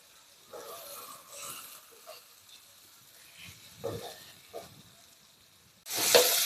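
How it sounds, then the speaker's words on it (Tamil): Raw mango being sautéed in oil in a nonstick pan: a faint, intermittent soft sizzle with occasional light stirring scrapes, then a louder burst of hissing near the end. "ஒரு 10 நிமிஷமாவது நம்ம எண்ணெயில் வதக்கணும்."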